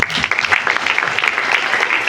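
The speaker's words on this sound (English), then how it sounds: "Let's give the authors a round of applause." A conference audience claps for paper authors, a dense burst of applause that stays loud throughout the short stretch.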